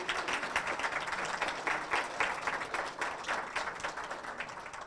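A crowd applauds with continuous, even clapping that holds steady for several seconds, moderately loud and somewhat distant.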